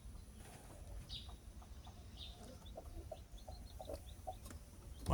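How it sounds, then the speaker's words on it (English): Brooding chicken making soft, scattered clucks and short calls, faint and close over a low background hum, with occasional light rustling. "Brooding chicken sounds."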